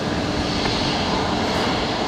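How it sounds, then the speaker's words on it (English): A Velocity Boeing 737-800 departs Brisbane runway 19 left, its engines giving a loud, steady broadband roar that stays even throughout, with no voices. "Velocity 328 there on screen. Going to Melbourne, the 737-800s."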